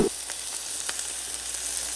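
Burger patties, bacon and onions fry in a pan under a bacon press, giving a steady, soft, close sizzle with faint crackles and no talk.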